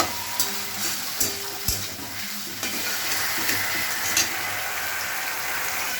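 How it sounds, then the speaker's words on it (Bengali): Spice masala sautéing in oil in a pan for a loitta fish curry, a dense, close sizzle with a few scraping and knocking stirs against the pan. "এবার মশলা দিয়ে ভালো করে কষিয়ে নেবো"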